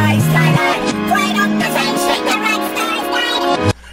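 A hip-hop remix built in Ableton Live 9, with reversed chops and a heavy grain effect on the acapella vocal, plays loud and dense before cutting off abruptly near the end.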